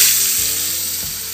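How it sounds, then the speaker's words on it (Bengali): Bhola fish frying in oil, a steady close sizzle with a couple of brief clicks and scrapes from the pan. "ভোলা মাছগুলো এবার ভাজবো।"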